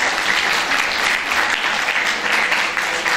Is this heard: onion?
no